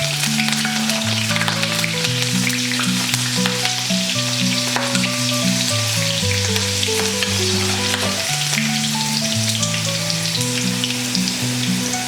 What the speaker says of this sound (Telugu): కొన్ని పచ్చిమిరపకాయలు ఇంకా కరివేపాకు లైట్గా ఫ్రై చేసి తీసుకుందాం.